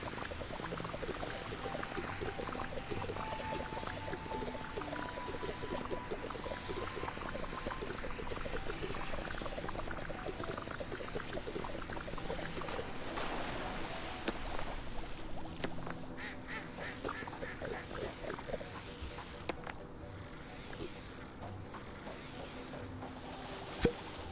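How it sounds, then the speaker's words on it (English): Water pouring steadily into buckets in the Fresh Start Cleaning Simulator video game, a continuous splashing flow with duck quacks and goose honks from the park mixed in, ending with a sharp click. "Fill the buckets with water to activate the fountain."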